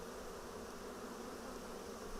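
Honeybees swarm around an opened hive during a brood inspection, a steady, dense buzzing drone that stays level and close, with no voices.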